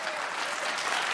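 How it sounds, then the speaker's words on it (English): A talk-show studio audience applauds on a late-night program, making a dense, even wash of clapping that holds steady for a moment. "I'm just wondering what the applause is there."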